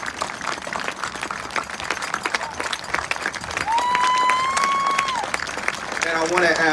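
Crowd applause and cheering for an honoured young man at a championship football team parade, steady clapping under a loud public address voice, with a whistle-like tone rising briefly near the end.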